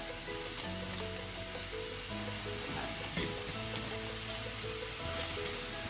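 Croquettes sizzle and crackle steadily as they fry in hot oil, a dense, continuous bubbling hiss that runs close and loud throughout with no talk over it.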